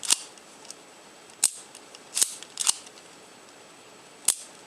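The shutter of a Kiev 30M spy camera fires several times, sharp crisp clicks spaced irregularly at close range, each a brief dry snap with no talk.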